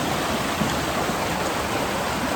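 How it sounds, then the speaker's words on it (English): A waterfall in Goa, heard from a narrow bridge crossing near it, gives a steady, full rushing roar of falling water that stays even and unbroken throughout, with no voices. "So this is the waterfall here."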